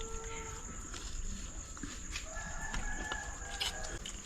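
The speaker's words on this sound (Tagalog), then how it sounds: "Tilawak ng manok." A rooster crows among other farm fowl in a noisy rural outdoor setting, heard as a fairly distant call over steady background chatter and ambient noise.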